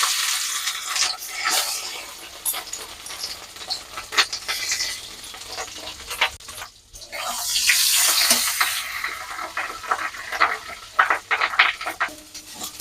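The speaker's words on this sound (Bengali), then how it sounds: "কড়ার তেলটা গরম হয়ে গেছে, এবার মাছের ডিমটা আমি তেলের মধ্যে দিয়ে দিচ্ছি।" Fish roe goes into hot oil in a wok, with scattered clinks and stirring before a loud burst of hissing sizzle that fades into crackling.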